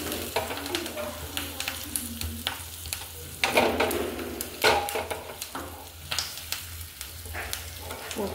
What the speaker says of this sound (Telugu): చిటపట్లాడుతుంది.